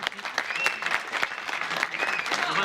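An audience claps at a neighbourhood citizens' meeting in France, scattered and uneven hand claps of moderate loudness with voices murmuring underneath.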